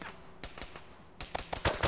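Several sharp gunshots ring out during a tactical military operation, a couple of isolated cracks first, then a quicker cluster of louder, closer shots near the end.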